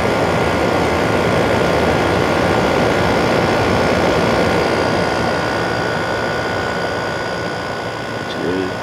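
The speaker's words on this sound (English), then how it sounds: "Compressor sounds nice." A General Electric 5500 BTU window air conditioner from 2016, model AHM05LWW1, runs its compressor with a loud, steady mechanical hum and whir, close by and unbroken, while a voice speaks over it.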